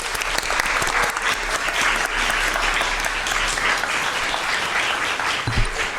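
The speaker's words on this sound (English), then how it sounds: "if we could just give them a round of applause" Steady applause from an audience at a school district board meeting honoring boys' and girls' champion teams and their coaches, continuous clapping throughout, moderately loud with a low hum underneath.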